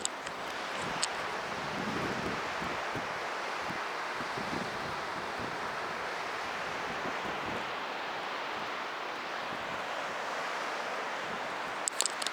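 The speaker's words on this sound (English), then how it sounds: "Finally I have the sound of the river back." Himalayan river in Langtang, Nepal, rushes in a steady broadband roar, continuous and fairly close throughout, with faint rustles and occasional soft knocks on top.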